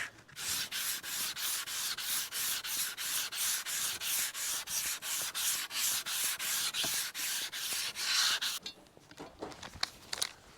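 Steady, rhythmic scratchy strokes of sandpaper rubbed back and forth by hand on a rally buggy coil cover, close and loud, roughly three strokes per second, tapering off at the end.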